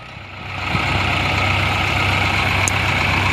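Swaraj and Mahindra tractors run in low top gear at 1000 RPM, their engines building up in the first moment into a steady, loud, low diesel drone that holds without talking.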